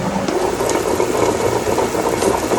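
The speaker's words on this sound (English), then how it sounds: "So I have a grinder, and my hair dryer providing heat turns it into a conch." A steady, continuous mechanical grinding and churning as a motorized grinder, warmed by a hair dryer, works through thick chocolate paste, with faint whirring underneath, close and unbroken.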